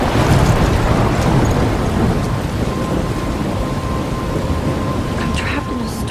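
Video game thunderstorm from Life is Strange: heavy steady rain roaring on surfaces with a low rumbling thunder bed, loud and continuous throughout.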